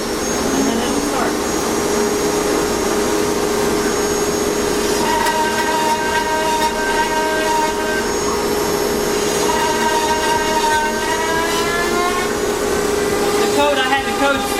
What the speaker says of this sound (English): The cutter's up to speed, and then it'll start.